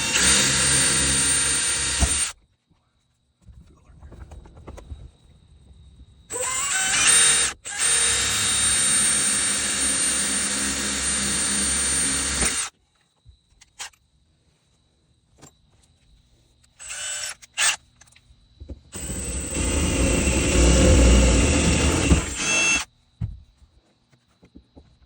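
A power drill bores into the dash of a 1996-1998 ZJ Jeep Grand Cherokee during a dash bar install, running in several sustained bursts of a few seconds each, separated by quiet gaps and short blips of the trigger.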